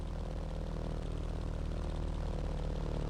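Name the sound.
Dynam Primo RC model airplane propeller in flight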